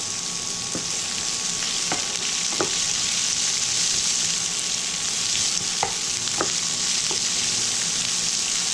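Chopped onion fries with roasted dal in hot oil, a steady, moderately loud sizzle broken by occasional stirring clicks and scrapes of a spoon against the pan, close by and without speech.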